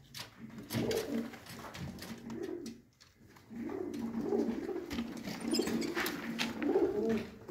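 Several pigeons of a Mian Nazir bloodline coo together nearby in repeated rounds of low, throaty calls, with a short pause near the middle before the cooing swells again.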